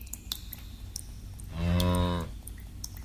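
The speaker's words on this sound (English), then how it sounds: "You're familiar with cows, I take it." Cow lowing once in a single long, deep moo up close, set against a soft outdoor background with faint ticking sounds.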